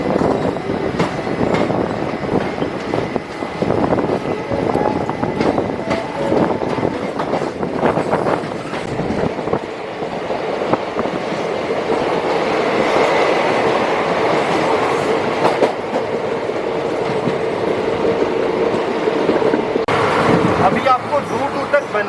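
A train on the Delhi to Jodhpur line rolls through a small station with a continuous loud rumble and rhythmic clickety-clack of wheels over the rail joints, steady for the whole stretch, with voices faintly under it.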